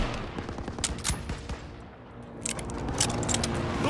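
Rapid machine-gun bursts and rifle shots crackle in a Call of Duty: WWII battle, dense at first, briefly easing, then picking up again, with distant booms and no talking.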